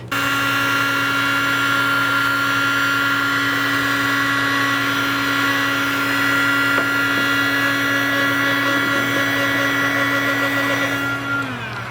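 Heat gun blowing steadily on car trim of a Subaru BRZ / Toyota FRS, a constant close whining hum with a fixed tone that holds unbroken before easing off at the very end.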